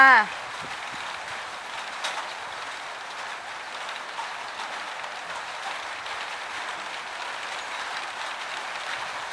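Heavy rain pours down in the countryside of Surin province, Thailand, a steady, even hiss of falling water that holds at a constant level throughout after a brief louder sound at the very start.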